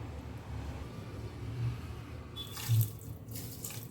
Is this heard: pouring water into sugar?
yes